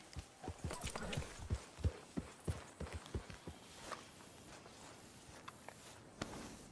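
Horse hooves clop along at a steady walking pace in a video game, close by, with a few irregular steps and faint shuffling toward the end.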